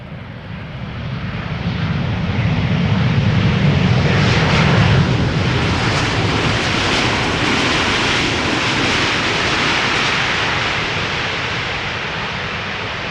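An airliner arriving at Amsterdam Schiphol Airport roars past, a broad, loud jet rumble that swells as it nears and then slowly fades while staying strong throughout.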